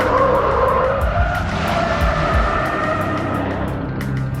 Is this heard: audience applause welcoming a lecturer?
no